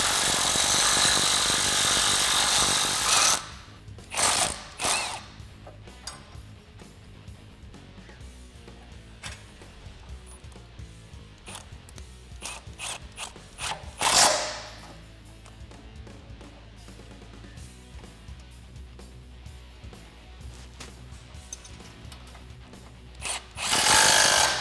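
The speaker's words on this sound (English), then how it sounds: "Tighten that down with 11 millimeter socket and 11 millimeter wrench." Tools working on a Jeep Wrangler JK during a SuperLift 4-inch suspension lift install, an 11 mm socket and wrench tightening a bolt: a loud burst at the start, then scattered clicks and taps and a few louder bursts near mid-clip and the end.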